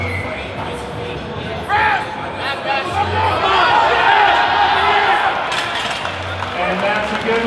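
A crowd at a deadlift competition cheers and shouts as a lifter attempts a heavy pull, the roar swelling midway and holding, with voices calling out over it.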